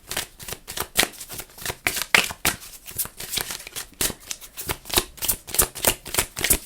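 Message cards shuffled steadily by hand, a continuous rapid run of crisp papery flicks and riffles repeating in an even rhythm, close up and fairly loud, with no talking.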